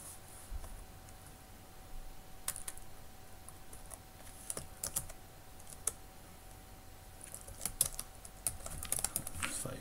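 Typing on a computer keyboard, with irregular bursts of key clicks and clatter that come and go against a quiet room background, busier toward the end.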